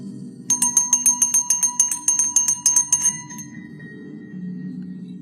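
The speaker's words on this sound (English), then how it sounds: "you hear the bell ring" A bright metallic bell rings in a quick run of about a dozen strikes over low background noise, then fades into a lingering ring as a low murmur continues.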